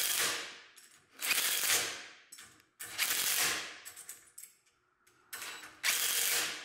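A ratchet wrench tightens bolts on the tine bar of a zero turn dethatcher attachment, giving repeated loud bursts of rapid clicking separated by short pauses, close up with no talking.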